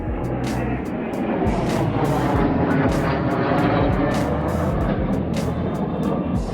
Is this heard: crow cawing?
no